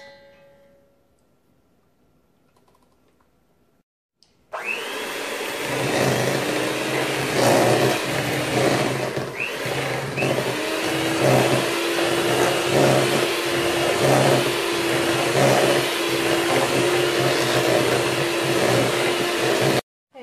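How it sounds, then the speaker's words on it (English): An electric hand mixer beating sour cream, butter, heavy whipping cream and cream cheese, starting after a few seconds of near silence and then whirring loudly and steadily, with a rhythmic pulse from the beaters. "And I'm going to use my hand mixer to mix this up."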